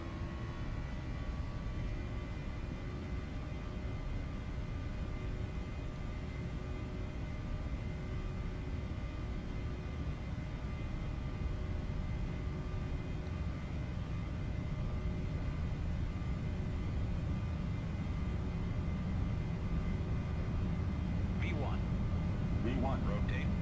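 PMDG 737-800 on its takeoff roll at TOGA thrust in the Prepar3D simulator, a steady jet engine roar with sustained tonal whine holding throughout and building slightly toward the end, with no talk.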